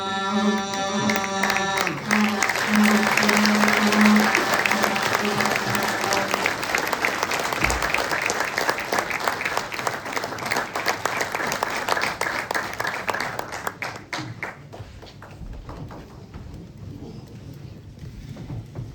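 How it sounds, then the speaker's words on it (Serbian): Audience applause at a Saint Sava academy evening held by the church community in Danilovgrad, a dense sustained clapping from a large crowd that fills the room, with a brief musical tone at the start and the clapping thinning out near the end. "Molim vas da još jednim velikim aplauzom pozdravite naše najmlađe."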